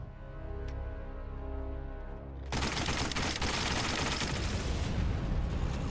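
Gunfire in an open-world shooter video game trailer: a tonal musical hum gives way abruptly to loud, dense, sustained rapid automatic fire with blasts, close and relentless.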